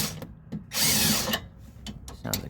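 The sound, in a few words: sway bar link stud spinning under a power tool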